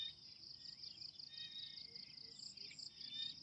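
Insects and birds chirp steadily over flooded rice fields, a dense high-pitched chorus with scattered brief bird calls, faint and continuous with no frogs clearly standing out.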